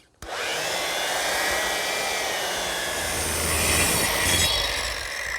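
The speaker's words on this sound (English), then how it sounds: "Best way to do that is with the belt sander." Belt sander sanding excess glue off a wooden flagpole, a loud steady abrasive roar that starts abruptly and holds for several seconds with a slight rise near the end, close with no talking.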